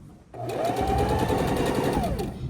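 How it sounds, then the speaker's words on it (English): Sewing machine chain stitching four quilt patches block after block, starting abruptly after a short quiet moment and then running as a steady, close, rapid mechanical whir of needle strokes to the end. "And I'm chain stitching these 4 patches block after block after block."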